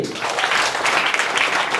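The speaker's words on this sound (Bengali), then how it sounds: "হাততালি দাও" An audience claps at a school prize-giving for musical-chairs winners, a dense burst of applause from many hands that fills the moment close and loud, with a voice faintly underneath.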